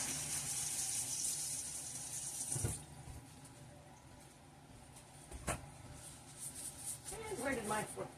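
Tap water running into a kitchen sink as gloved hands messy with avocado get a quick rinse, a steady close hiss that stops partway and is followed by quieter handling, with talk mixed in.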